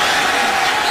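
Brief, loud wash of football stadium crowd noise reacting to a failed Kansas City Chiefs play against the Buffalo Bills, a dense sustained roar.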